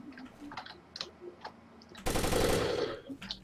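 In the tactical shooter Takedown: Red Sabre, a gun fires a quick rapid burst of loud cracks after a stretch of quiet clicks and light taps, close and sharp, with no talk over it.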